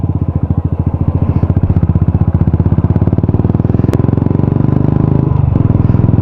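A Royal Enfield Classic 350 motorcycle runs close by, its single-cylinder engine thumping in a loud, rapid, even beat with a deep rumbling tone that barely changes, one brief click partway through.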